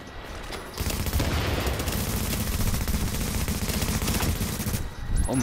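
Rapid, dense automatic gunfire from Tom Clancy's The Division fills most of the clip, loud and sustained, starting abruptly after a brief quieter lead-in and cutting off near the end.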